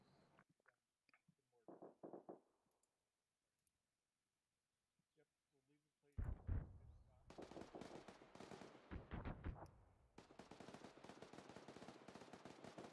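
A Marine artillery howitzer fires during squad training, with a loud close blast at about six seconds and rolling, sustained roar afterward, while voices call out commands.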